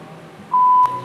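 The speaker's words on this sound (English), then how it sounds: "beeping again" A single steady electronic beep sounds for about a quarter second, loud and clear, with a faint background hum around it.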